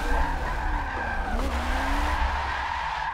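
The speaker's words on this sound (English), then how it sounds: "That's gonna be a really long e-brake grab." A car in a racing game drifts on an e-brake grab, a long continuous tire squeal wavering over a steady engine drone, close and loud throughout.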